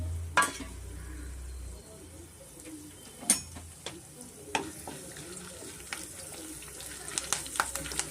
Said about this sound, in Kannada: ಎಣ್ಣೆ ಕಾದಿದೆ ಇವಾಗ ಇದಕ್ಕೆ ನಾನು ಜೀರಿಗೆ ಸಾಸಿವೆ ಕಡಲೆಬೇಳೆ ಕರ್ಬೇವು ಸೇರಿಸ್ಕೊತ ಇದ್ದೀನಿ